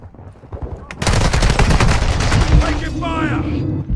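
Rapid automatic gunfire in the video game Call of Duty DMZ erupts after a quiet second and rattles on loud and close, with a brief voice near the end.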